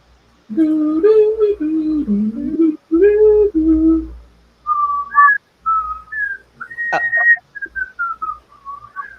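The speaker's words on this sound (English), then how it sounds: "The whistling is kind of painful, actually." A person whistles a wavering, melodic tune up close, first in lower warbling phrases and then in higher, sharper notes broken by short pauses.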